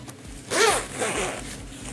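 A fleece jacket is zipped up in two quick close pulls, the first louder and longer, the second shorter, in an otherwise quiet room.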